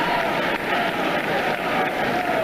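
A regional wrestling arena crowd roars and applauds in a continuous dense wash of cheering and clapping, loud and sustained throughout.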